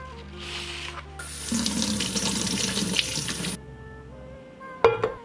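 Tap water gushes steadily into a sink while ten eggs are washed for a couple of seconds, with a few clicks and knocks of handling before and after.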